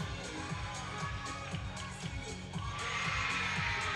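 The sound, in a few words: teammates cheering loudly after a gymnast's stuck dismount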